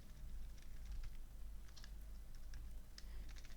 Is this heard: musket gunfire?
no